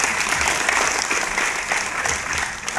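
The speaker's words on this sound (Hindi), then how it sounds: "तालियां" A crowd at a film festival breaks into dense, continuous applause, loud and sustained throughout with no gaps, and a faint voice sits underneath.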